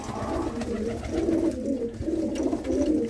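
Pigeons coo softly in low, rolling repeated calls, close by, with faint background noise.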